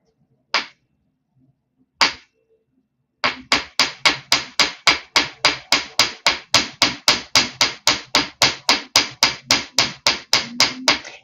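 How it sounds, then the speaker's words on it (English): Hammering on dead soft copper wire: two isolated taps, then a rapid, steady run of sharp metallic strikes, close and loud, with an even rhythm. "as I hammer this, right, it does work harden it"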